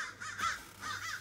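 Crows caw nearby during a headlight and fog light repair on a Mercedes W124, two harsh calls in quick succession ringing out without any speech.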